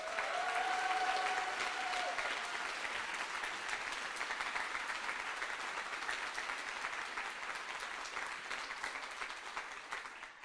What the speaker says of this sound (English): One more big cheer for them.